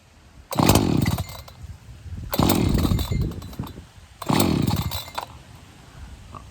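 An ECHO CS-590 chainsaw with a 20-inch bar being pull-started: three loud, rasping cord pulls a second or two apart, each a brief sputtering burst of engine noise that fades back to quiet.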